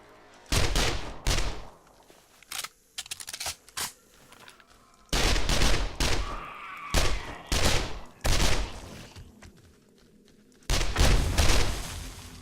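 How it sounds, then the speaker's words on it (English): Bursts of gunfire in the 7 Days to Die game (Alpha 17.2 with the BorderlandZ mod), with rapid fusillades and single shots repeating loudly in clusters, separated by short quieter gaps. "Someone is shooting again"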